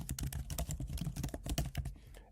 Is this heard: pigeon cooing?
no